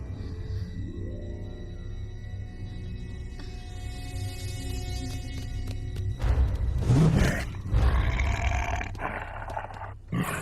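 A cartoon tiger lets out a long, loud, growling roar that swells and rumbles over background music in an animated Krishna story, with no voices alongside.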